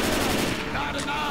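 Rapid gunfire in the zombie shooter video game Left 4 Dead crackles in dense, loud bursts, with players talking over the action.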